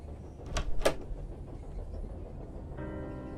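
A train rides along in the video game The Charnel House Trilogy: a low, steady rumble of wheels, with two sharp sliding or clanking bursts early on and a faint tonal hum toward the end.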